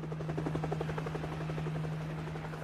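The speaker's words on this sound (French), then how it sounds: "L'hélico décolle" A helicopter lifting off from a remote mountain village, its steady rotor thump and engine drone filling the air at moderate distance, a continuous rhythmic chop.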